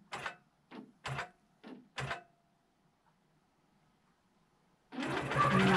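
A QCT5 Pro computerized quilting machine sews a chunked border, its dense, steady mechanical buzz of rapid stitching starting abruptly near the end and running loud, following a few short soft knocks and a quiet pause.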